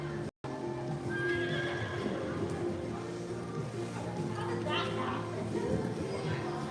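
Horse sounds with whinnies and hoof clatter fill an echoing arena at a youth reining and cattle boxing competition, with people talking in the background throughout.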